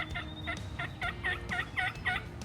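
Wild turkeys gobble and call repeatedly on a spring morning during hunting season in Delmarva, a quick series of bright, rattling bursts at close to moderate distance over a low outdoor hum.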